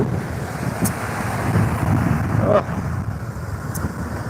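Bay of Bengal waves and strong wind heard from a boat at sea: constant roaring wind buffeting the microphone over a broad wash of surf, with a couple of faint clinks, steady and loud with no clear speech.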